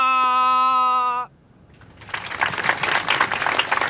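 A synthetic tone gives way to a short hush, then a crowd of academy members breaks into dense, building applause that fills the rest of the moment, with no voices heard.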